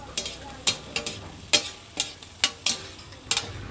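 Cooked cake frying in pork fat on a Bangkok street stall griddle, with sharp metallic scrapes or taps in an uneven rhythm over a soft, steady sizzle, close and moderately loud.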